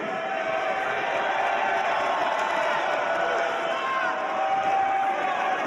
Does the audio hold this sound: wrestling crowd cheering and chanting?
yes